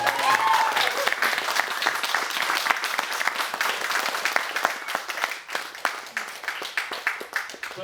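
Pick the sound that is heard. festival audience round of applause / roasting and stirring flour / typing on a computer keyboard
festival audience round of applause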